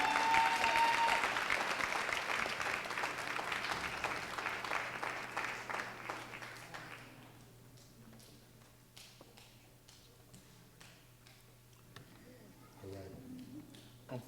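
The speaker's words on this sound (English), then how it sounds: "I think you guys gonna have to give her another round of applause for that." An audience at a 1998 graduation ceremony gives a loud, sustained round of applause for about seven seconds, then it fades into a quiet hall with a low steady hum and scattered faint sounds.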